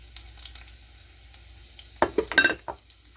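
Onions hit olive oil and melted ghee in a pan, starting with faint scattered crackles and then a brief burst of louder sizzling and clinks near the end, close and unaccompanied by talk.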